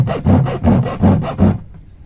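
A bare hacksaw blade cuts through a used plastic can, five loud, close, rhythmic rasping strokes in steady succession, then silence.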